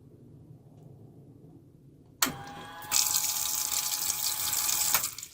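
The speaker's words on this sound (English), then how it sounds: "There you have it. Running water in the van." Water bursts from a tap in a converted box-truck home, a sudden hissing rush that starts after quiet and keeps running steadily and loud, alone without talk.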